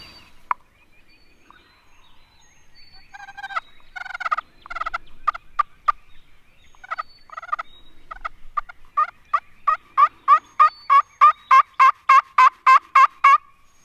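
Wild turkeys roosted about 75 to 80 yards away gobble and cluck, starting as scattered distant calls and building into a rapid run of loud, rhythmic gobbles that grow nearer and stronger toward the end.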